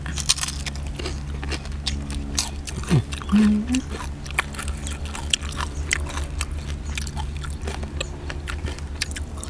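Crisp grilled pork intestine crunched and chewed close by, with irregular bites and smacking over a low steady hum, plus a short vocal squeak partway through; someone briefly talks.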